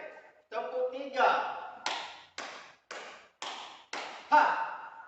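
After a short spoken cue, a teacher sounds a third clap pattern: five close, sharp hand claps in a regular beat, then talking resumes.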